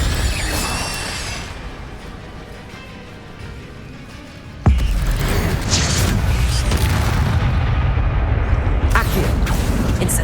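Repeated Incendio fire spell bursts in the Hogwarts Legacy video game, a sudden loud booming whoosh that starts about halfway through and holds as a dense, roaring blast over earlier steady game ambience.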